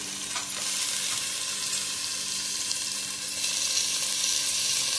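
Onions fry in oil with a constant, close crackling sizzle that runs unbroken throughout, with faint stirring scrapes mixed in and no one talking.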